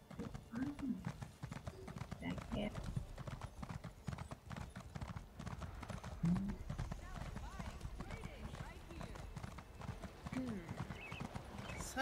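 Horse hooves clip-clop steadily as a rider travels in the Elder Scrolls Online game, a continuous galloping rhythm under ongoing conversation, with a brief whinny.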